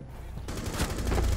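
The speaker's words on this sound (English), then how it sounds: "That guy just unleashed the machine gun in my ass" Rapid machine gun fire in Rainbow Six Siege, a dense burst that kicks in partway through and keeps going loud and close to the end.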